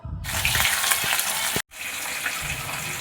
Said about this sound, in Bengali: কড়াইতে সর্ষের তেল দিয়েছি এক এক করে মাছগুলো